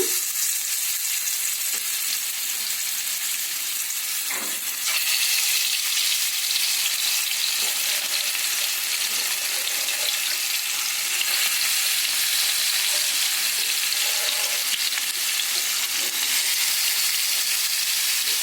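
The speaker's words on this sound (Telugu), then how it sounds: "ఆయిల్ వేడయ్యాక మనం తీసుకున్న ముందుగా మ్యాగ్నేట్ చేసుకున్న లెగ్ పీసులు వేసుకుందాము" Marinated chicken leg pieces fry in hot oil with a steady, loud crackling sizzle. It rises a little stronger about midway and carries on unbroken, with no voices.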